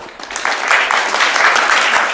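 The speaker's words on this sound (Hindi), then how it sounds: "तो सब ताली बजा के स्वागत कर दो" Clapping from a devotional gathering during a morning mangal aarti discourse welcomes a guest from Ranchi, steady and close, swelling slightly over two seconds.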